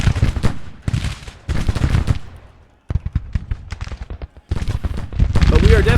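Musket volleys and artillery fire in Grand Tactician, a Civil War battle game: dense crackling gunfire in bursts with heavier booms, pausing briefly and resuming, with a voice talking over it.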